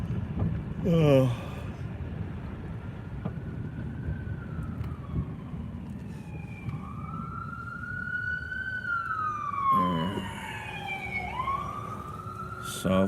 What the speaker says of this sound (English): ambulance racing to the ER